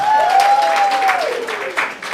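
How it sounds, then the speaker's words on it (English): A conference audience claps warmly, the applause steady and fairly loud at first, then thinning, with a voice trailing over it early on. "Let's give them a big round of applause."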